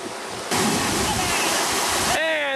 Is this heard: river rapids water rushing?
yes